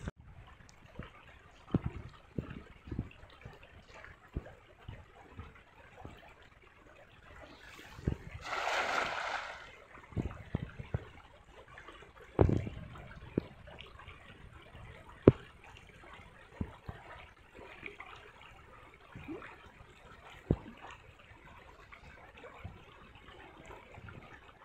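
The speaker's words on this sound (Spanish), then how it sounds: "La corriente del río." A small stream runs past puddles full of tilapia, its current a faint, steady trickle and gurgle with scattered splashes and a brief louder water burst partway through, heard close up with no talking.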